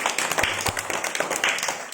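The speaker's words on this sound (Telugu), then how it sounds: "క్లాప్స్." Schoolchildren in a classroom clapping for a classmate, a short burst of uneven, close hand claps lasting about two seconds, with some voices mixed in.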